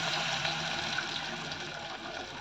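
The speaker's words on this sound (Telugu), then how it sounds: "కొలత ప్రకారం నీళ్ళు పోసుకోవాలి" Water pours steadily into a cooking pan while Bombay rava upma is made, a continuous soft splashing rush, close and moderately quiet, with no talk.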